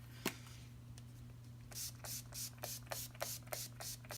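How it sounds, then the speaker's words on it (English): A rapid series of about eight short, hissing spritzes of All Nighter setting spray onto a face, close by and fairly quiet, after a single earlier click. "now we're going to set our face with some setting spray"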